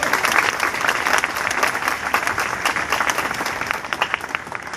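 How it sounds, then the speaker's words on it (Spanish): A crowd at a horse show in Xcaret, Cancún, claps loudly and continuously for several seconds, an even wash of many hands that stays strong to the end. "Fuerte ese aplauso"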